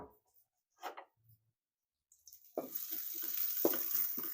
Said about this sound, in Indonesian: Kita tumis sebentar ya teman-teman ya, sampai harum atau layu.